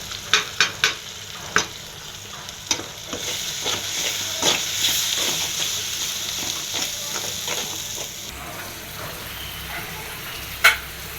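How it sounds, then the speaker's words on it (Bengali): Onions fry in a pan with spices such as turmeric, chili, ginger and garlic, a soft continuous sizzle broken by sharp clacks and scrapes of a spatula, several clustered at the start. "পেঁয়াজ দিয়েছি, পেঁয়াজ একটু ব্রাউন হলে হলুদ মরিচ সব দেব।"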